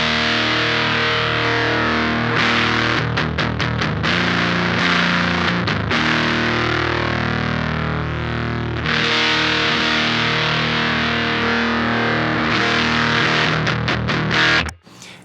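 Distorted electric guitar through a Champion Leccy Dunsh pedal on its mid setting, giving a fuller low end; loud, sustained chords with bursts of fast picking, played alone and stopping abruptly at the end.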